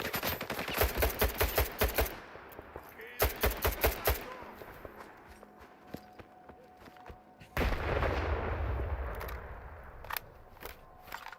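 Gunfire in S.T.A.L.K.E.R. 2 comes in two loud bursts of rapid shots, then a lull with scattered faint reports, then a roaring blast followed by a few more shots.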